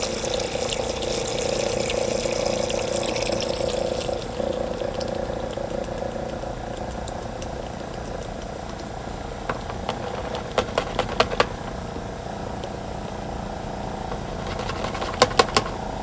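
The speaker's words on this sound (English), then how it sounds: "Actually, I want to push that solution out before I shut down the pump." A small pump pushes CLR descaling solution through a tankless RV water heater, producing a steady motorized hum with water rushing, plus a few sharp clicks and knocks near the end.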